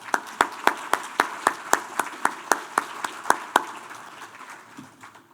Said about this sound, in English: join me for just a quick round of applause for them